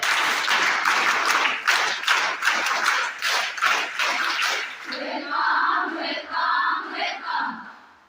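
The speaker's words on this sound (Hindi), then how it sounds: "वेलकम ताली शुरू कर" A large group of schoolgirls claps a welcome at a school gathering. The dense, loud applause runs together with a few shouts, then gives way to scattered voices and a rhythmic chant as the clapping fades.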